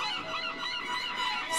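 Seabirds calling, with repeated honking, goose-like cries overlapping in a steady chorus at moderate loudness, no voices present.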